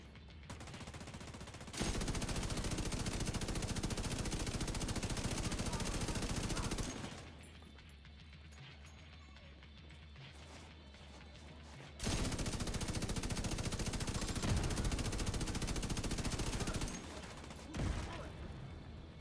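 Bullet King exotic light machine gun firing in The Division 2, in two long, loud sustained bursts of rapid automatic fire separated by a quieter pause, with a short final burst near the end.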